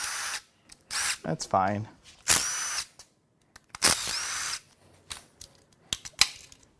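A power tool unbolts the chain tensioner on a BMW S63 twin-turbo V8 during a teardown. It gives several short, loud whirring bursts with pauses between them, and someone speaks briefly.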